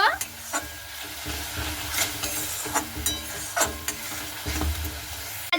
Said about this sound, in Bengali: খুব ভালো মতো করে মটরশুঁটিটাকে দিয়ে কষতে থাকবো